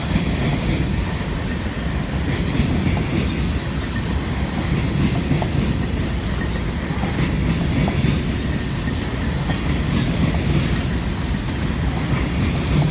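A long freight train rolls past nearby, a loud continuous rumble of rail cars with rhythmic clickety-clack of wheels over joints and occasional faint squeals, no voices.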